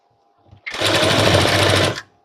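Sewing machine stitching a seam on a four-panel petticoat runs in one steady, close burst of about a second and a half, with a smooth rising whir and rapid needle rhythm, no voices.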